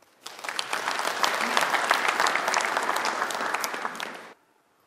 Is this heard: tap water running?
no